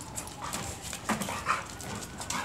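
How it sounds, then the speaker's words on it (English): A dog whimpering in soft, high, whiny bursts repeated over a couple of seconds, fairly close, with a steady background hiss. "Look at this dog."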